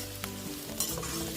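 Egg chowmein is stir-fried street style, loud close sizzling with quick scraping tosses of a spatula in the pan and a tonal hum beneath.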